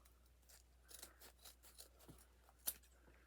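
Scissors snip through Dollar Tree mesh ribbon at an angle for a 4th of July wreath: a series of quiet, close cuts and rustles, with one crisper snip near the end.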